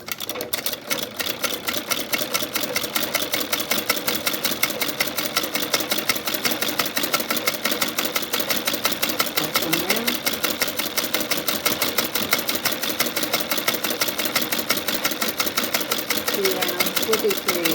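A Singer 27 treadle sewing machine fitted with a vintage buttonholer stitches steadily, a close, continuous rapid mechanical clatter with even rhythm throughout.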